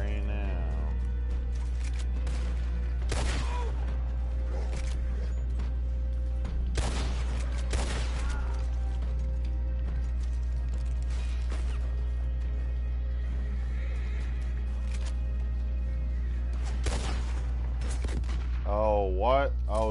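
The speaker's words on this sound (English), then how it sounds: "You're gonna stop shooting at me right now." Gunfire in the video game Red Dead Redemption 2 Online: several sharp, scattered shots cut through a steady low hum, and a voice is heard briefly near the end.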